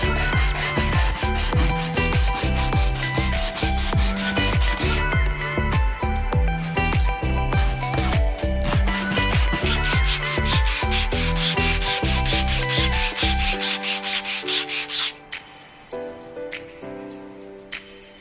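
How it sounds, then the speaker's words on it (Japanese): Sandpaper scrapes back and forth in a quick, regular rhythm of rasping strokes, removing burrs from a handmade cookie tin lid, close and steady, slowing and thinning out near the end. "紙やすりでバリを取り除きます。"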